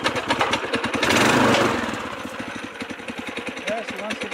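A Predator 212 mini bike engine, governor bypassed, fires up with a loud surging burst, then settles into a steady, rapid thumping idle close by.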